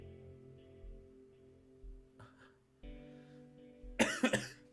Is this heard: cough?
yes